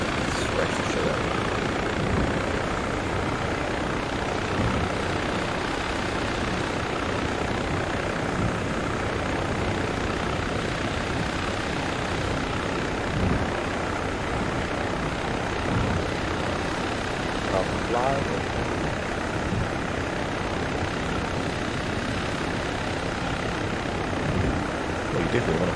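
A helicopter in the military video game ARMA 3 drones and thrums continuously at close range, a dense, steady rotor and engine roar with no letup, while players talk over the radio on top of it.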